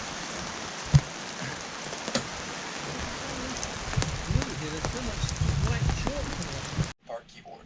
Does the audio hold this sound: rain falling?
yes